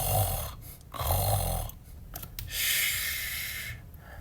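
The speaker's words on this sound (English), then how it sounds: "soon his engine slows to snores" A construction-site dump truck, settling down for the night, lets out cartoon-style snores, about three slow, rhythmic breaths in and out with no talking.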